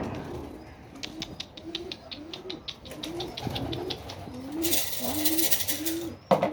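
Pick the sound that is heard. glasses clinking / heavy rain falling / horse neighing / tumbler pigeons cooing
tumbler pigeons cooing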